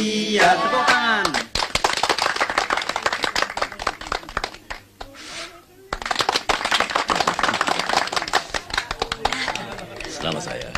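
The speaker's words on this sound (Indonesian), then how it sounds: "Tepuk tangan." A group claps briskly and densely right after a birthday song. The fast clapping runs almost the whole time, with a brief lull in the middle, and voices chatter and call out over it.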